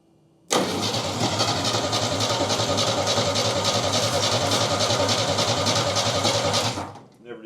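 A 1969 Chevy engine, burned and sitting for 40 years and in need of a carburetor rebuild, starts up and runs steadily but roughly at close range for several seconds before cutting off.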